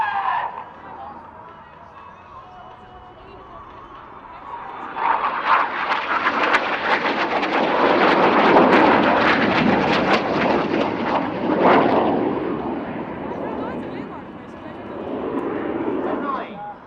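RAF Red Arrows jets fly the Cyclone manoeuvre at the Leeuwarden Air Base airshow in the Netherlands, their roar swelling from a distant rumble into a loud, sustained rush overhead and then easing away, with a commentator talking over it.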